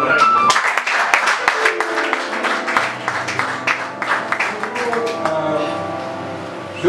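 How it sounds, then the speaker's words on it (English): A church congregation claps hands in a steady, fairly loud burst during a sermon, with voices mixed under the clapping and a tonal hum beneath. "I think you should clap your hands."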